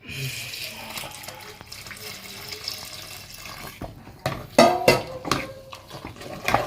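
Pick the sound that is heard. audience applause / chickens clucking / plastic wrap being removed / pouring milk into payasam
pouring milk into payasam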